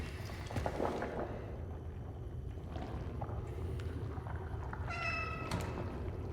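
A cat meows in the video game Cronos: The New Dawn, a short, fairly clear mew near the end over a steady low ambient rumble of the game world.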